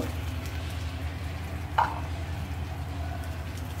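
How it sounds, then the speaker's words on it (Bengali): Food fries in oil in a home kitchen pan, a soft steady sizzle with one brief stir or scrape midway, without talk. "একদম ভাজা ভাজা করছি, তেলটা ছাড়ে দিচ্ছি"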